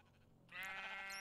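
A single Minecraft sheep bleats loudly and close, a wavering nasal cry that starts abruptly midway and holds to the end, with no talking.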